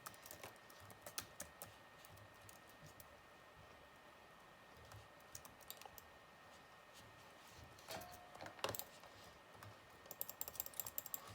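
Rapid mouse clicking from an auto clicker mouse during a Roblox Flag Wars game, light ticking bursts in quick runs, faint and close, with no talk.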